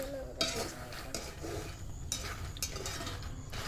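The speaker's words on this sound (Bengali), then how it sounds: "বাদামগুলোকে হাই হিটে এইভাবে উল্টে পাল্টে ভেজে নিতে হবে লবণের সাথে" Peanuts are tossed and stir-roasted with salt in a pan over high heat, making a continuous gritty scraping and rattling with soft clinks of the spatula.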